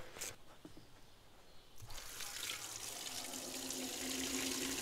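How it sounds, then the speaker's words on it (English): Running water starts with a rush after a short quiet moment, then flows steadily through new spray nozzles on a Miller Nitro 5240 sprayer, growing slightly louder. "this is only water."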